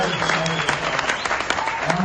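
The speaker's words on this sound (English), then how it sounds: "Big round of applause for you." Conference audience applauding after a speaker congratulates a large attendance; dense, steady clapping fills the moment with a voice faintly heard over it.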